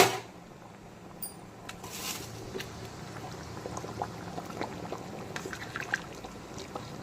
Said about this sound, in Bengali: তো দিয়ে দিচ্ছি গরম জল।